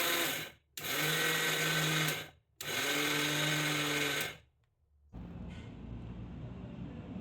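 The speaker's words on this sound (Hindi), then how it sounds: "जार में डालने के बाद इसको हम दरदरा सा पीस करके तैयार करेंगे" A mixer grinder coarsely grinds flaxseed in loud, steady whirring bursts: a short burst, then two longer ones of about two seconds each with brief stops between them, followed by a lower, quieter hum.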